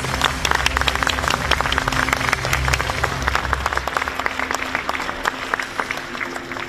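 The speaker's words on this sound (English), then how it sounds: "Let's please give a big round of applause to all of our honored guests." Guests at a formal signing ceremony for an urban development agreement give sustained applause, a dense patter of many hands clapping steadily and slowly tapering off, with a low hum and faint murmur beneath.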